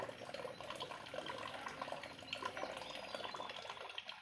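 Water runs steadily from a household tap, a continuous soft splashing stream at close range with no talk over it.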